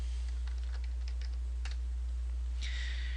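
Typing on a computer keyboard, quick light clicks in uneven bursts, close and clear over a steady low hum, with a brief brighter clatter near the end.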